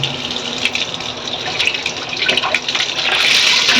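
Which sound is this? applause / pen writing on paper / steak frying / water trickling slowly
water trickling slowly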